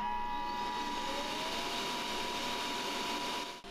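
A Makera Cyclone dust collector hooked up to a Makera Z1 desktop CNC runs as a steady, close, continuous whooshing hum at even volume, cutting off abruptly near the end.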